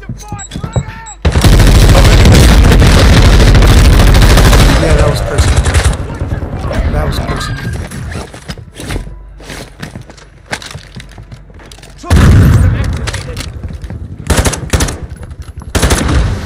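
Rapid automatic gunfire from a shooter video game on Ashika Island, loud bursts of fusillade that fill most of the clip with a short lull midway, while players talk excitedly over the shooting.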